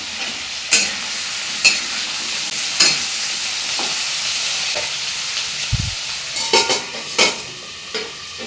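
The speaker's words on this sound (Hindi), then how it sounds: "यहाँ पर फिर मैं सब्ज़ी कट करके रखी थी, अब इसको मैं थोड़ी सी फ्राई करूँगी।" Chopped vegetables fry in a pan with a soft, steady sizzle, broken by several sharp clatters of stirring against the pan spaced through the stretch.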